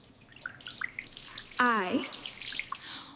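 Bathroom tap running into a sink while someone washes their face, a soft steady splash and trickle heard close, with a voice speaking briefly over it.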